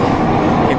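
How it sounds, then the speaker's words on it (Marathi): Mumbai underground Metro Line 3 train running through a tunnel near Siddhivinayak station, a loud continuous close rumble of wheels and carriages with no talk. "हे बघा ट्रेन बघ कशी वाकडे तिकडे सापावाने व्हायला लागली आहे."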